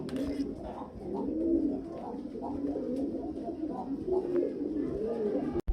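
Several pigeons, including Lahori black pigeons, coo in a low, repeated rhythm close by at a pigeon farm, their throaty calls overlapping steadily with faint chirps behind.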